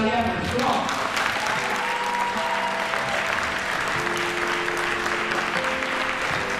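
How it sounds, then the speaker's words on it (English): Audience applause fills a fundraising event for a counter-extremism foundation: steady, dense clapping that stays loud from start to finish, with a few voices mixed in. "please give a very warm round of applause to Sally Evans."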